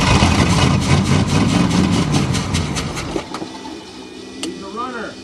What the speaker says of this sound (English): 305 running on two-stroke gas.